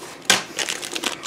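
A quick clatter of small hard objects tumbling together, one sharp knock followed by a scatter of lighter rattling clicks, close and fairly quiet.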